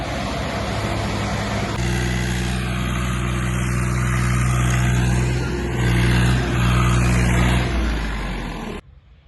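A tractor hauling a trolley out of a farm field runs as a loud, close, steady diesel drone that swells with effort in places, then cuts off sharply at the end.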